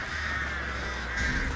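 Cawing crows summoned by the Artist in the video game Dead by Daylight, harsh repeated caws over a steady droning game ambience, with a brief louder swell near the end.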